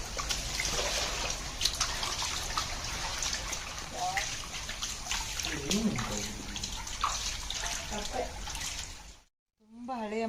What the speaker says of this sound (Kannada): ಅಲ್ಲಿ ನೋಡಿ ಅಡಿಯಿಂದ ನೀರು ಹೋಗ್ತಾ ಇದೆ